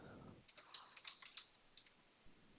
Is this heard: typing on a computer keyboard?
yes